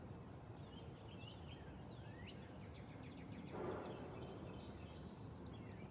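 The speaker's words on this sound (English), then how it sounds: "There are a lot of birds right now. They're very loud." Many birds chirp and sing outdoors, thin whistles and trills scattered over a steady background hiss, with a brief louder burst midway.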